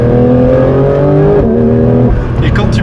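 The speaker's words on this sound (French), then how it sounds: "Et quand tu passes le rapport, t'as ce bruit qui est caractéristique à la GT3 RS." Porsche 911 992 GT3 RS engine revving hard, a loud sustained harmonic howl that dips at a gear change and climbs again, close and dominant with a person talking over it.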